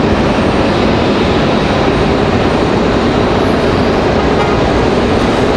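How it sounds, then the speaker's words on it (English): Delta Airbus A319-100 arriving at Raleigh-Durham International Airport from Detroit, a loud, continuous broadband jet roar filling the whole stretch without any voices. "Looks like we got Delta 1407 coming in from Detroit, another A319-100 coming in."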